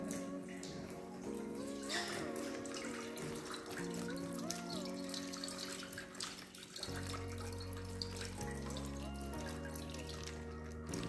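Water spurts from a balloon-pressurised bottle fountain in a physics demonstration, a soft continuous gush and trickle heard faintly under background music throughout.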